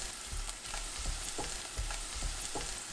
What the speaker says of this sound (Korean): 팬에 올리브유 1큰술, 마늘 넣고